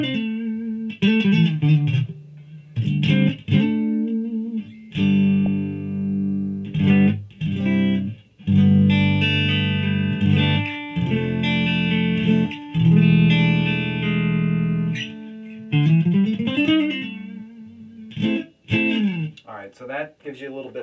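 An electric guitar with EMG pickups and a clean tone plays ringing chords and single notes, some sustained, with brief pauses between phrases.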